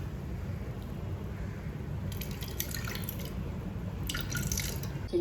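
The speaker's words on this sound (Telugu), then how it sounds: "చేతితో వడకట్టుకొని తీసుకున్న చింతపండు రసాన్ని వేయాలి." Tamarind juice trickles and splashes into cooked lentils in two short pouring bursts over a low background hum, fairly close and moderate in volume.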